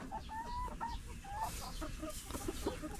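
Dekalb White chickens, including four-month-old birds in a coop, cluck and chatter in short rising calls with some overlapping, set against a low background hum.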